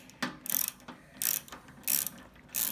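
Ratchet wrench snugging down the mounting bolts on an HVAC blower fan, giving four short bursts of rapid clicking separated by brief pauses, close and fairly loud with no talking.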